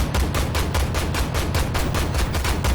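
An AMX 10P's autocannon fires in Armored Warfare, a loud rapid string of about a dozen evenly spaced heavy shots, close and steady with no talk.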